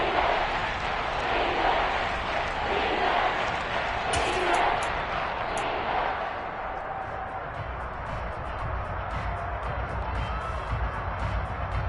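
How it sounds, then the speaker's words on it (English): Football stadium crowd roaring before a big third down in the fourth quarter, a loud, steady wash of noise that eases slightly midway, with a voice talking over it. "The crowd getting into it as we come up on a big 3rd down"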